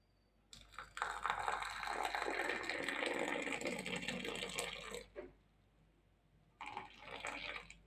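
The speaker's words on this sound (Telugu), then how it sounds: "పాలు మసిలినాయి కదా ఫ్రెండ్స్, చూడండి పోస్తున్నాను" Boiled milk pouring into jaggery-sweetened coffee, a loud continuous splashing stream for about four seconds, a pause, then a shorter second pour.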